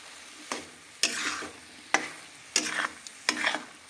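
Mustard greens chutney is stirred in a pan to cook off its water, with five or six distinct scraping strokes of a spoon against the pan, close and fairly loud, over a soft sizzle.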